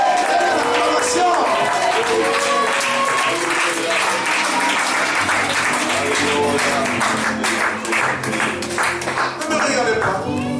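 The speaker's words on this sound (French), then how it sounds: "avec le cri de joie, avec l'acclamation" A church congregation applauds and cheers with joy, loud sustained clapping and crowd voices mingled with an organ or music underneath, while a preacher keeps speaking over it.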